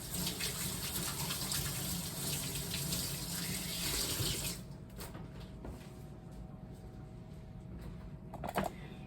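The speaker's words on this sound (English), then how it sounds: "I'm gonna rinse my hands." Water from a kitchen tap runs steadily as hands are rinsed under it, a loud broadband gush that stops about halfway through, leaving quiet room tone with a few faint clicks.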